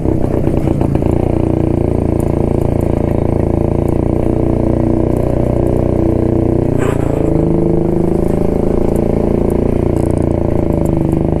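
A large vehicle passing alongside a moving 1972 Jawa motorcycle on the road, a loud steady engine drone with rushing road and wind noise throughout and a brief swell midway as it goes by.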